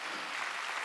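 A church congregation at a Wednesday worship service claps together in a dense, continuous burst of applause, steady and fairly loud for a brief moment.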